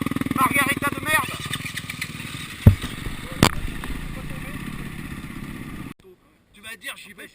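A motorcycle engine drones and buzzes under wind noise as the bike is ridden, with a couple of sharp knocks midway. The engine sound cuts off abruptly near the end, leaving faint voices.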